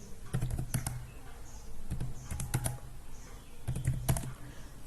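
Numbers are entered into an Excel spreadsheet on a computer keyboard, heard as quick clusters of crisp, close key taps separated by short pauses, with no talking.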